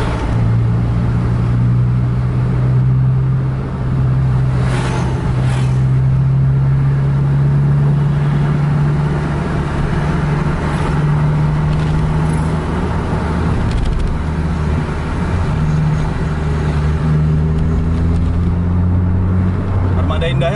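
A Mercedes-Benz-engined Armada Indah bus drives a Medan–Banda Aceh road, its engine droning loud and steady with shifting pitch as it prepares to overtake a truck.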